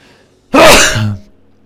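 A single sharp sneeze bursts out loud and close after a brief quiet breath, then trails off, with no other sound around it.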